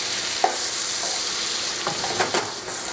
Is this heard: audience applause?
no